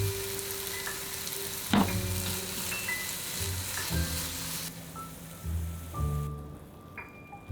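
Shimeji mushrooms sizzle in a hot pan, a steady crackling fry with occasional stirring clatter and short bumps, close and moderately loud, no voices.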